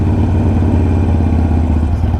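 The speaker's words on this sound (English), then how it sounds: "I'm going to start up my bike right now, and let's see how it is." Harley-Davidson Sportster Iron 883 motorcycle engine running steadily right after start-up, a loud, close, low rumbling throb with a constant mechanical clatter and no pauses.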